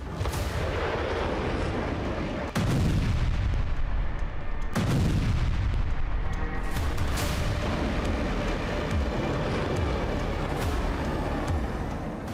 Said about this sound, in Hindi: एक के बाद एक 10 से ज्यादा भीषण धमाके।